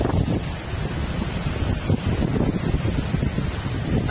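Sea waves and gusting wind on the beach at Vũng Tàu, a continuous rough roar with buffeting wind on the microphone and no voices.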